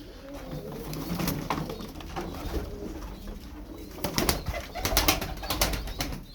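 Pigeons coo softly amid a busy flutter of wings, with sharper flapping bursts growing louder toward the end, close by.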